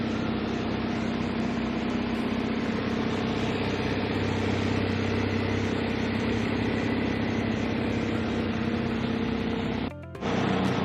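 A 2018 Porsche 911 Carrera engine idles with a steady, even hum close by, loud and unbroken until a brief cut near the end.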